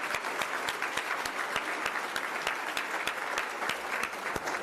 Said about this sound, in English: if we can give them both another round of applause